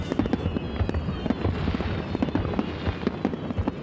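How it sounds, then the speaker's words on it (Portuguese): A fireworks display over Omagari, Japan, during the city's annual fireworks competition, with repeated booms and crackling bursts in quick succession, loud and close, and faint voices beneath. "já ganhou vários concursos importantes aqui pela beleza dos fogos de artifício que apresenta"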